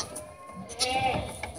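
A farm goat lets out a wavering bleat at moderate distance over a faint background murmur, with no clear speech.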